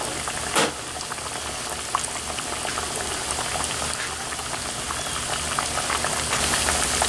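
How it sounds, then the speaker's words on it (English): Big twice-fried plantain tostones deep frying in a pot of oil over coals outdoors, a dense, steady bubbling crackle that fills the whole clip without a break, with one sharper splash near the start as they drop in. "we're gonna go ahead and drop the tostales now. This is our second time we're gonna fry them."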